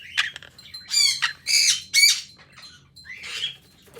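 A pet Quaker parrot squawks in loud, harsh bursts, several in quick succession, close up over a faint low background hum.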